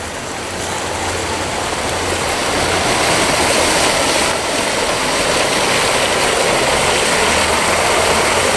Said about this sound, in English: Put them a little water feature in here.